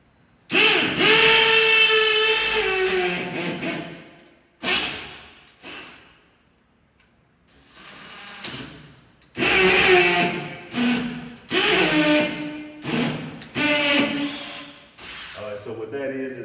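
A power drill bores into a brick wall to mount a Samsung 70-inch TV, whining loudly in repeated bursts of a few seconds each, with short pauses and brief restarts between them.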